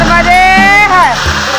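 Kapildhara waterfall at Amarkantak pours with a loud, steady rush of falling water that fills the whole clip, while a voice carries over it.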